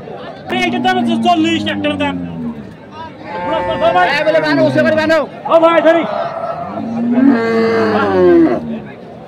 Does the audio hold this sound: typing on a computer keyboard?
no